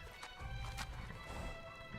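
A horse in the video game Skyrim clip-clops along at a brisk pace with a short whinny, hooves fairly close over a dense background of game ambience and music.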